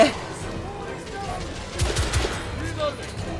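Enemy gunfire in The Order: 1886 rattles in quick bursts of shots, with a heavier cluster near the middle, over game ambience while a player talks.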